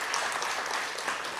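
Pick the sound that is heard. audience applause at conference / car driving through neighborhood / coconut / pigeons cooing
audience applause at conference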